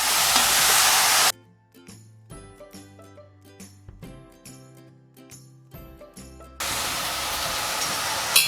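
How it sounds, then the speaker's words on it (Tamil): Spinach and coriander sautéing in a pan give a dense hiss at the start and end, while the middle stretch drops out of the sizzle and is filled by tonal music. "ஒரு பாதி அளவுக்கு பாலக்கீரை, ஒரு கை அளவுக்கு கொத்தமல்லி இதையும் சேர்த்து கொஞ்சம் நல்லா வதக்கிக்கலாம்"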